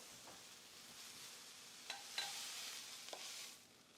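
Vegetables sautéing in a hot pan give off a steady, quiet sizzle, with a few sharp clicks and scrapes as they are stirred. No one speaks.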